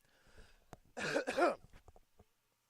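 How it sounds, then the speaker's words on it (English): A single person clears their throat up close, two rough bursts followed by a few small clicks and then silence. "It's about time for me to clear my throat."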